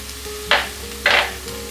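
Chili dropped into hot oil for a chana dal and cabbage sabji gives two short bursts of crackling sizzle, each fading quickly over a steady low background hum, with no talking.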